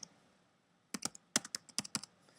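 Quick bursts of keystrokes on a computer keyboard as a title is typed, irregular clusters of crisp clicks close by after a brief quiet start.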